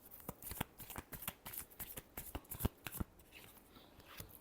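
A deck of tarot cards is shuffled close up in quick, crisp bursts of riffling and sliding, quiet and isolated with no talking.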